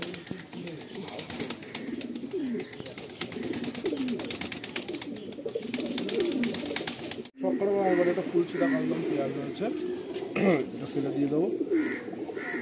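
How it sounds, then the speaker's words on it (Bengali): Many pigeons, including high-flying Andhra birds, coo in repeated throaty bursts close by at a bird market in Kolkata, with a person talking over the calls throughout. "প্রচুর পায়রা এখানে রয়েছে"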